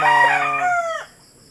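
Rooster crowing once, loud and close, a single drawn-out call that tapers off into quiet.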